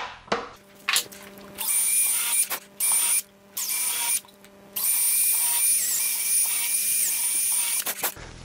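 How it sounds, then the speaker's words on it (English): A power drill whines in repeated bursts drilling pilot holes in a cabinet drawer, starting and stopping several times, loud and close, with brief quiet gaps between runs. "before I drill the pilot holes"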